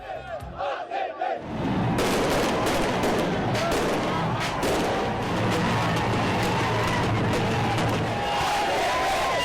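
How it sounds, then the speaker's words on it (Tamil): Rapid crackling bursts of firecrackers going off in a Bengaluru street after an IPL final win, loud and continuous, over a cheering, shouting crowd. "சாலைகளில் திரண்டு பட்டாசு வெடித்து நடனமாடி உற்சாக கொண்டாட்டம்"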